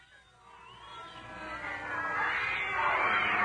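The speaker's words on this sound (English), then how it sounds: "A plague of cats, Prince." Cats caterwaul at night in a radio drama sound effect, a drawn-out rising wail that swells louder and higher toward the end, heard alone without voices.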